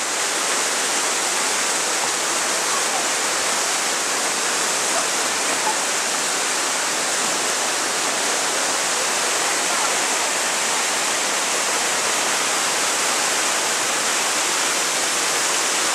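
A waterfall roars continuously, a dense, even, full-band rushing wash of falling water heard close and loud with no pauses.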